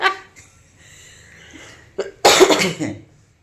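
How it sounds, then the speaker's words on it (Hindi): A few harsh coughs burst out near the end after a quiet stretch, loud and close, with faint breathy sounds before them. "तो खांसी अभी भी है"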